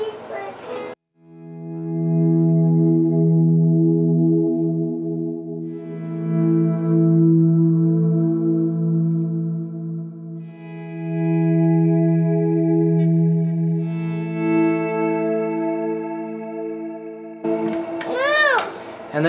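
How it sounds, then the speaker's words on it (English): Electric guitar played through a Boss RV5 reverb pedal set to modulate mode, ringing out long sustained, shimmering chords with a slow wash of ambient reverb tail, steady and fairly loud, ending with a brighter strummed burst. "I use it for one thing only, and that is in the modulate mode for kind of a longer, more ambient sound"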